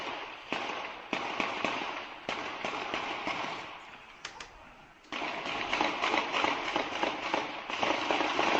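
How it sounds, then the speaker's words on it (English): Sharp bangs and crackling pops go off down a street in irregular bursts, some single cracks and some rapid clusters, moderately loud and slightly distant, with no voices. "There's explosions and gunfire going on down the street."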